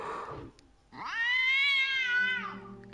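A cat in the VR game Déraciné gives one long, loud, clear meow that rises and then falls, close by, after a short burst of other sound at the start.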